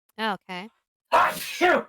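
A short spoken word, a pause, then a sharp, forceful sneeze close by.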